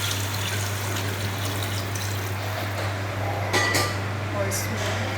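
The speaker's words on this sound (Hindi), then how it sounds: "अब हम इसमें पानी डालेंगे" About a litre of water is poured into a pot of fried potatoes for an egg potato curry. It makes a continuous splashing gush over a steady low kitchen hum, with a brief louder splash near the end.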